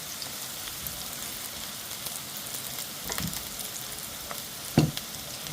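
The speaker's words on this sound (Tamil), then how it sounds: "இது நல்லா வதங்கிடுச்சு நம்ம இதில் கொஞ்சோண்டு வடகம் சேர்த்துக்கலாம்" Onions sizzle steadily in a hot pan in a home kitchen, a soft continuous frying hiss, with a brief thump and louder crackle near the end as vadagam is dropped in.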